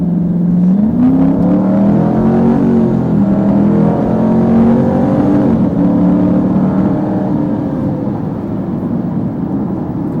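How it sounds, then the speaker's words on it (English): Loud, steady engine drone heard inside a moving 2007 Ford Mustang GT with a 5.0 V8 and bolt-ons, a low hum rising and falling gently in pitch as it accelerates. "there's a lot more engine noise in the cabin than there is exhaust noise"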